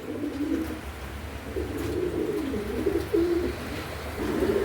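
Pigeons coo in a close, soft series of throaty, rolling calls, repeating in short phrases over a low background hum with no voices.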